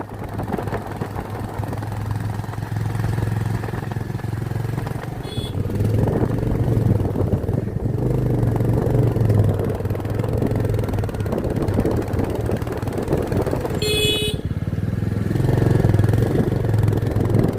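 A motorcycle climbs a winding hill road toward Mirik, its engine holding a steady, close mid-pitched drone for the whole stretch, with occasional brief rattles and whooshes.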